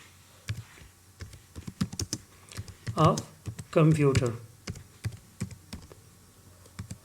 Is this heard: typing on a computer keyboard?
yes